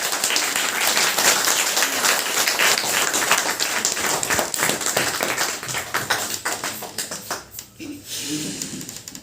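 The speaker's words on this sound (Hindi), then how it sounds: "बैठाने के लिए भी ताली बजानी पड़ती है सर को" An audience applauds the speaker with dense, lively clapping that thins into scattered claps and then fades out, with faint voices near the end.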